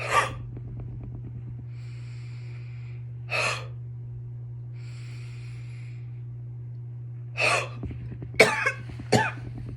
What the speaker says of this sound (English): and then a big cough into your paper towel